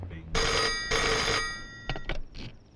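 An old-style telephone bell rings in two loud, shrill bursts in an indoor scene from a Telugu film, followed by brief clatter and faint voices.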